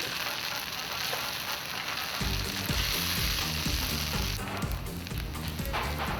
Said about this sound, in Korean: 냄비에 다시 불을 켜니 자작자작 누룽지 생기는 소리가